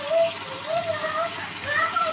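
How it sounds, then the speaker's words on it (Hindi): Hot water pours into a simmering fish curry masala in a cooking pot, a soft continuous splashing gush running under a voice speaking throughout. "अब मैं इसमें डाल रही हूँ गर्म पानी।"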